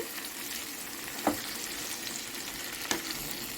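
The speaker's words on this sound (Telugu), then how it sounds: "ఈ టమాటాలు అయితే వేస్తున్నా నేను టమాటాలు కూడా బాగా మగ్గాలి" Tomatoes fry in a pan for betel leaf chutney, making a constant, even sizzle close by, broken by two brief clicks of stirring.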